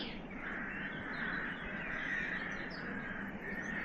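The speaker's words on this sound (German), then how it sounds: "Das sind Vögel da hinten." Crows calling at a distance by a large body of water on a hike across three countries, faint caws blending into a steady outdoor hiss with no clear separate calls.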